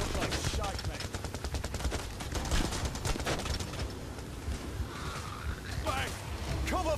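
Rapid bursts of automatic gunfire crackle continuously through a Payday The Heist bridge shootout, loud and dense with overlapping shots, while players' voices shout over the firefight.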